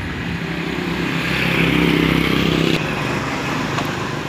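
A simply modified Kawasaki Kaze trail motorcycle, rigged for hauling rice in a farming village, idles steadily nearby with a continuous low engine drone that swells slightly midway, heard alone without talk.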